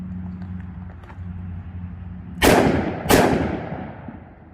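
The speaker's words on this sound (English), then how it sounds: "I'm going to take 2 shots" Two sharp pistol shots, about half a second apart, loud and close with a short echo tail after each, following a steady low background hum.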